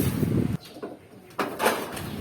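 A pigeon with a respiratory rattle, kept in a converted pig pen coop, makes intermittent raspy, rattling coos in short bursts separated by quieter gaps.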